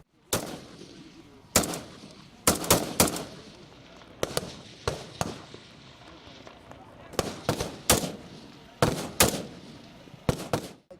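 Reservists fire weapons on a firing range during a live-fire exercise, sharp loud gunshots arriving singly and in quick bursts at irregular intervals, with faint talk between volleys.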